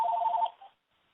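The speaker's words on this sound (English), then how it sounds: "I keep getting this phone call." A phone rings with an incoming call, a short bright electronic ring that warbles for under a second before cutting off abruptly into silence.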